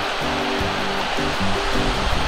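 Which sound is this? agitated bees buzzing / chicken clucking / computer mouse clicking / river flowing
river flowing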